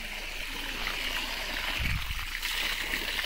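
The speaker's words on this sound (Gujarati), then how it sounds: "ઓલા બધા આંબામાં પાણી દઈ દીધું." Irrigation water runs steadily among mango trees in an orchard, a continuous trickling stream with light splashing, close by and alone with no talk.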